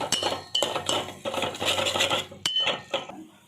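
Spoons and a bowl clink and scrape as soaked cauliflower is stirred together with turmeric, garam masala and chilli powder for a cauliflower dal curry; close, busy rhythmic clatter with no talking.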